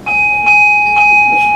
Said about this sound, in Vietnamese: Này gõ chuông